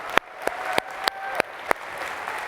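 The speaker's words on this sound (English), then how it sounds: "Give them one round of applause" Audience applause in a conference general-session hall: a handful of distinct, evenly spaced claps stand out over a low, steady crowd wash, fairly faint overall.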